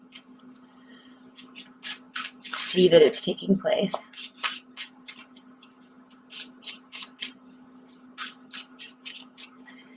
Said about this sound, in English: I'm going to do a really quick additional shuffle